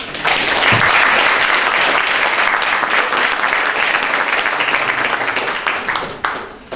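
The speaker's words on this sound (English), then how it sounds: "I think you got a louder round of applause than I did" Loud, sustained applause from an audience at an annual general meeting, dense clapping that holds steady for several seconds before thinning out and fading near the end.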